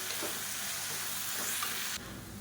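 Peanuts and sautéed chutney ingredients stirred in a hot pan, a steady close sizzle with scraping stir strokes throughout, the frying noise dropping slightly near the end.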